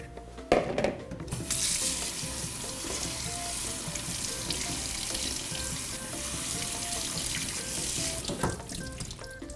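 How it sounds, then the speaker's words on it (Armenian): Cold tap water runs steadily over cooked spinach in a colander, a continuous close splashing rush that begins after a brief clatter and fades near the end, with no talking. "Սա տեղափոխենք քամիչի մեջ եւ սառը ջրով լվանանք։"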